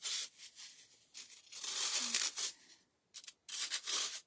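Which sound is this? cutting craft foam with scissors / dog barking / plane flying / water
cutting craft foam with scissors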